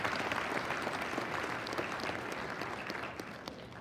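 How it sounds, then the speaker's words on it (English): A crowd applauds fair queen contestants in a steady, full round of clapping with a few crisp individual claps on top, fading gradually toward the end. "So give them another big round of applause."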